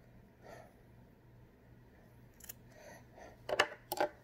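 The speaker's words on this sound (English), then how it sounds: "And I make that little snip." Scissors make a few quiet snips through folded fabric being cut for a face mask, with light rustling and two short crisp cuts near the end in a quiet room.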